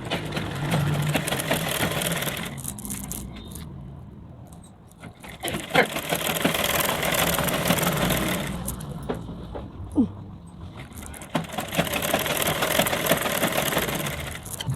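Sewing machine running steady straight stitches through a blouse and its lining, a continuous whirring drone that eases briefly twice before resuming, with small clicks along the way.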